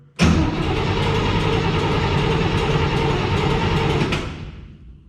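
An International rat rod engine fires up abruptly and roars loudly at a high idle for several seconds before cutting off and fading away.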